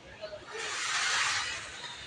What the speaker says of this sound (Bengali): এখন মাংসটা ভালো করে কষায় নিব